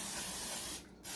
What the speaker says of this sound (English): spray my air fryer down with some oil